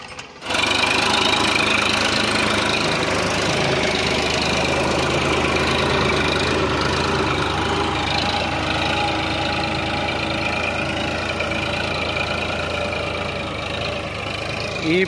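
A tractor ploughing a small field gives a continuous loud diesel rumble with a rapid knocking pulse, steady and nearby from start to finish, easing slightly near the end, with no speech.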